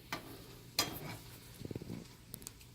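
Marinated mushrooms sizzle quietly in a pan at low heat, with a few sharp utensil clicks and a brief burst of bubbling. The sound is faint and close, with no voices.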